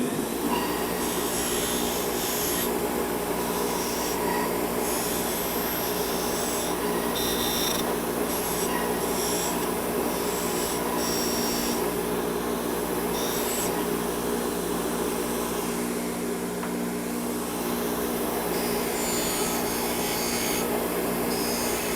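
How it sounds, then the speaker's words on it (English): A wire wheel scrubs aluminum AC hose assembly fittings, a continuous close abrasive whirring and rasping that holds steady throughout with slight fluctuations in grit and pressure. "if you have a wire wheel, you want to carefully do this, because aluminum is very soft."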